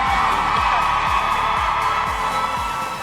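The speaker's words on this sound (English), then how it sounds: "the crowd has been fantastic. You can hear them. They're all really loud." Loud crowd at TwitchCon Las Vegas cheering and whooping continuously during a Twitch Rivals Minecraft Championship event, a dense roar with shouts over a steady rhythmic low thump.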